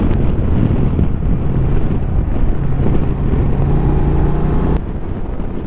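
Honda Transalp 750cc motorcycle riding in sixth gear on back roads, a steady engine drone buried under heavy wind buffeting on the microphone, loud and continuous.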